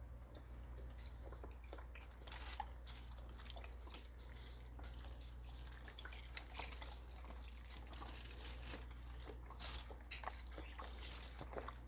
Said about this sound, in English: I'm pouring my 4 cups of beef broth in. Just over everything.